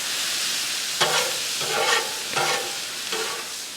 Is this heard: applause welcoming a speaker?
no